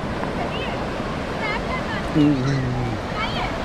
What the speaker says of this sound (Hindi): अभी मैं समुद्र की लहरों में आपको थोड़ा सा क्लोजअप करवाना चाहता हूँ।